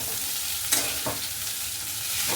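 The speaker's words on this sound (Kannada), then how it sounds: "ಈಗ ಒಗ್ಗರಣೆನ ತಿರುವ್ಕೊಳ್ಳೋಣ ಹೀಗೆ" Soft sizzling from a pan of capsicum and spice tempering with a few brief scraping stirs, close and steady, no voices.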